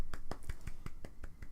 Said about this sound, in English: Snapping fingers.